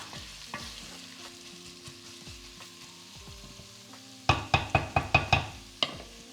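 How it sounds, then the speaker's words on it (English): Vegetable lasagne sauce in a pan deglazed with red wine, a bubbling sizzle with soft stirring taps, then a burst of sharp, loud spoon knocks against the pan near the end. "And then we deglaze with the red wine."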